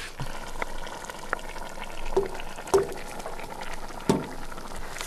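A pot of pearl barley bubbles steadily at close range, with occasional louder pops and gurgles breaking through the simmering hiss.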